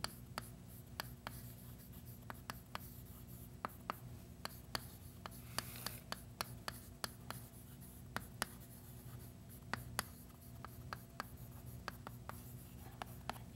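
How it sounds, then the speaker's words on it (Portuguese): Chalk or marker strokes on a classroom board during a math lesson form a run of sharp, irregular taps and scratches, close and quiet against a low background hum, with no speech. "vou escrever assim"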